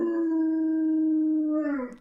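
A dog howls in a single sustained, loud tone for about two seconds, holding steady before the pitch bends downward and fades, heard alone with no talk over it.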